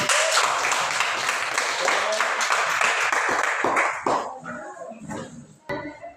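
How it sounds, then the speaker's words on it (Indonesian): A school class applauds at the end of a religion lesson, a dense burst of clapping for about four seconds that thins out into a few scattered claps and voices. "Ya, beri tepuk tangan dulu."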